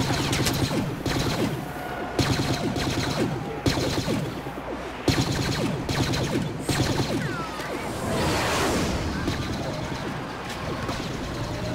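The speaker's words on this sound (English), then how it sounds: "That pulse cannon is fucking insane." Rapid pulse cannon fire from a TIE fighter in the Star Wars Battlefront video game, Walker Assault mode, comes as dense bursts of blasts with mechanical clatter and explosions, loud and continuous with brief pauses between volleys.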